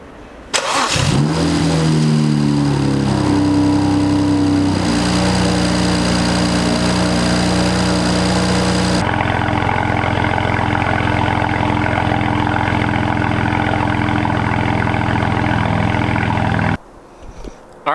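A BMW N54 engine cranks and catches, then settles into a steady, loud idle with a slight rev shift partway through, running continuously close to the microphone before cutting off near the end.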